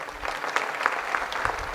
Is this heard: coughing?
no